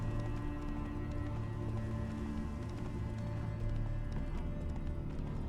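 Roach the horse gallops with steady, rapid hoofbeats in The Witcher 3, a dense continuous clip-clop under a layered game soundtrack.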